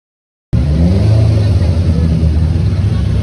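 A small rally car engine is revved and accelerated during tuning for a hill-climb. The clip opens with half a second of silence, then a loud, close, throaty rumble runs on without break.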